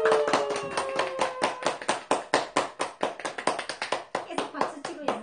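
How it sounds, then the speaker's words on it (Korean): Audience clapping in a lecture hall, steady rhythmic hand claps in unison, loud and close, with a few voices and tones sounding over the opening beats. "계속 박수 치고 있습니다."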